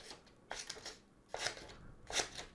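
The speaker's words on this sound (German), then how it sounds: "Schauen wir mal, was die Schere kann." Spring-loaded scissors on a plier-style multitool snip three times, crisp close cuts spaced about a second apart with a quiet pause between each.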